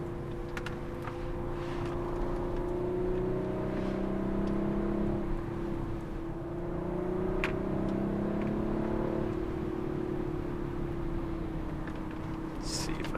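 A 2019 Audi RS5 drives through a canyon, its engine droning and rising and falling in pitch as it accelerates and eases off, heard from inside the cabin with a person talking over it.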